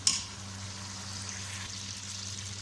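Mutton karahi frying in a wok, a steady close sizzle with faint stirring scrapes and a brief louder crackle at the start, no voices.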